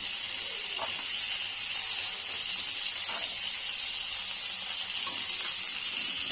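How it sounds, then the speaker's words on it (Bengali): Paneer frying in a pan with salt and turmeric, giving a steady, loud sizzling hiss that runs unbroken throughout with faint crackles and pops. "নুন হলুদ দিয়ে পনিরটাকে ভেজে নেবো।"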